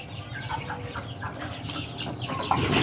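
Chickens cluck busily up close, many overlapping calls in a continuous chorus that grows slightly louder toward the end.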